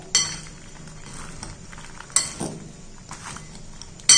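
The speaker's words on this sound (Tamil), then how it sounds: "இப்போ இது எல்லாத்தையும் நல்லா மிக்ஸ் பண்ணிக்கிடுவோம்." Makhana, peanuts and pink salt are tossed together in a bowl, with quiet rustling and three sharp clinks of a utensil against the bowl at intervals, and no talk.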